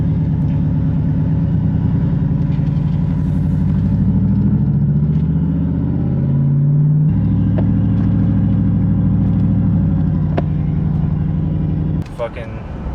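A truck with freshly repaired oil pressure cruises along the road, its engine a steady, loud drone with road rumble throughout, shifting pitch midway and ending with a brief clunk.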